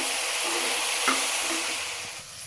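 Broad beans frying in hot oil for an Andhra-style mutton curry, giving a steady, close sizzle with a soft stirring scrape partway through; no one speaks.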